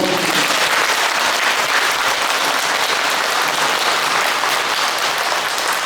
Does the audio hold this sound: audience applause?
yes